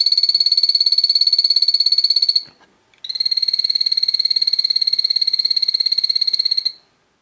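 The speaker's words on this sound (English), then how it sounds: "I did manage to get some footage of one of my males calling the other day" A male Epipedobates anthonyi dart frog calls in two long, rapid buzzing trills of evenly spaced high chirps, close and loud, separated by a brief pause, with no other sounds.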